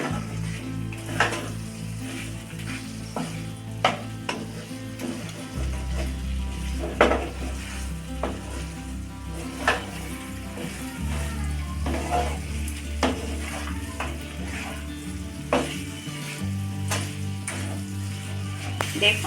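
Chicken butter masala fries in oil in a pan and gets stirred, giving a steady sizzle dotted with frequent spoon taps and scrapes against the pot, with music playing underneath.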